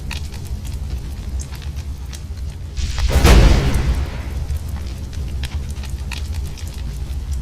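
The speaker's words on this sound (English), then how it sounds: "Yay, cast the explosion!" An explosion spell going off in a Dungeons & Dragons video game: one loud, bursting boom rises over a steady background, peaks briefly, then fades.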